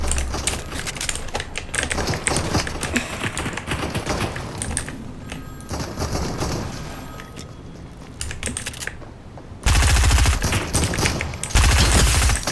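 SMG gunfire in a shooter video game: fast clattering bursts fill most of the stretch, then two loud, dense full-auto bursts come close together near the end, with no voices.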